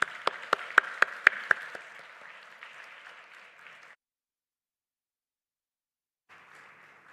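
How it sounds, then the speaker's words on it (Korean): Church congregation at a Friday night testimony prayer meeting in Daegu claps briefly, a few sharp distinct claps over a steady wash of applause that fades, then silence before faint applause returns. "우리 또 박수하겠습니다."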